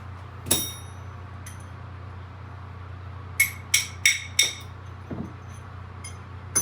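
Sharp metallic clinks of a wrench working a stubborn nut off a bolt on a 1975 Norton motorcycle: one early clink, then a quick run of four close, bright taps and a softer pair, over a steady low hum.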